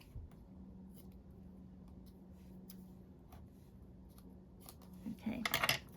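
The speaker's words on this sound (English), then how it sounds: "I'm just going to cut a couple pieces off" Scissors snip through tear and tape double-sided adhesive for card making, a few quiet close cuts and a brief crinkle of tape near the end over a soft background hum.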